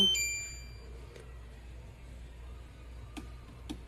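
Household appliance sounds a short multi-tone electronic beep as it powers on, followed by a low steady background hum and a couple of faint clicks.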